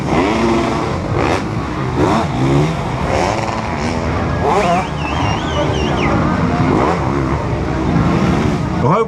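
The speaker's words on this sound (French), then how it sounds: "Revoici le leader, le 734, Jérémy Demelin." Race cars or motorcycles roar past one after another during a competitive race where riders battle for position, loud engines rising and falling with crowd noise and a commentator's voice underneath.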